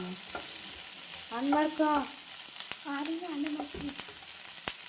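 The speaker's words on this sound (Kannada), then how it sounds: "ನೋಡಿ, ಈ ಥರ ಇದನ್ನು ಫ್ರೈ ಮಾಡ್ಕೊಂಡು ಸೈಡಿಗೆ ತೆಗೆದಿಟ್ಕೊಳ್ಳೋಣ." Baby sweet corn frying in a pan, a constant close sizzling hiss broken by sharp stirring clicks, while a voice speaks briefly twice.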